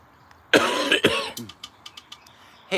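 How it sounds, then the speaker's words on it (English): Two harsh, close coughs in quick succession, then a few small throat sounds and breaths trailing off. "Excuse me about the coughing."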